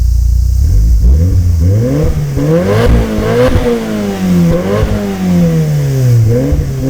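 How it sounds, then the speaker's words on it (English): A 2003 Mitsubishi Lancer Evolution 7 RS engine revs hard several times, its exhaust note rising and falling in loud, close bursts with a raspy growl. "pretty awesome sounding exhaust there"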